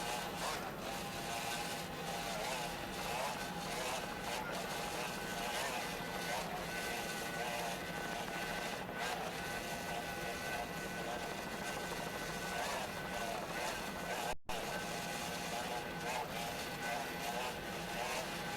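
A 28-foot Skater powerboat, the DeSantis Chevy boat from the 1993 season, roars at speed with a dense, steady, loud drone heard from onboard. The engine and hull noise runs unbroken apart from one brief dropout.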